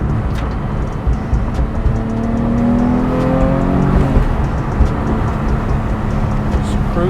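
Manual Porsche 911 GT3 engine cruising at part throttle with lazy shifts, a steady close drone with rising and falling pitch sweeps from gear changes, continuous under road and wind noise.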